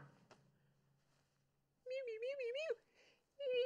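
A pet cat gives two drawn-out, wavering meows close to the microphone after a quiet pause, with a faint earlier click and low hum beforehand.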